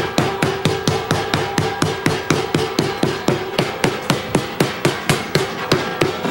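A meat hammer pounds a steak to tenderize it, about two dozen sharp, evenly spaced thuds in a steady fast rhythm, loud and close with nothing else heard.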